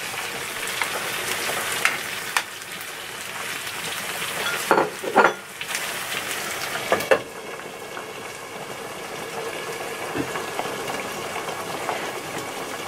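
Egg yolk sizzles on low heat in a frying pan for natto spaghetti: a steady, close crackling hiss with a few brief louder pops partway through.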